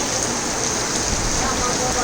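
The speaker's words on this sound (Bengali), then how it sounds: "কি জোরে বৃষ্টি হইতেছে বলার বাহিরে।" Heavy rain pours down in a dense, steady roar that stays loud and unbroken throughout, with no voices over it.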